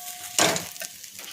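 Pointed gourd (potol) chop filling fries in a pan, a sharp burst of sizzling and scraping as it is stirred, followed by quieter crackles and a few light clicks, with no talk.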